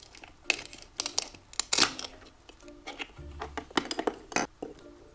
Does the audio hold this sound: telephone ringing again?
no